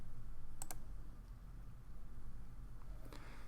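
A few faint computer mouse clicks, quick pairs of light ticks, while selecting files and folders for a backup, set over a steady hum.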